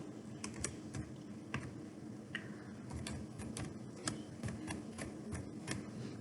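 Close, quick tapping on a computer keyboard as a folder name is typed, uneven bursts of sharp key clicks over a faint background hum.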